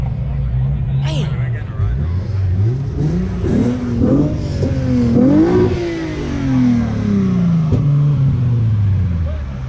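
A Nissan GT-R engine revs at a busy car meet, rising and falling in several swelling pulls close by, with people talking over it throughout.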